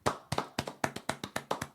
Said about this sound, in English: If you're doing anything else, please join us in a brief clap